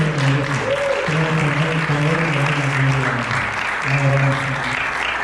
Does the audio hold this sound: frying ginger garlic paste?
no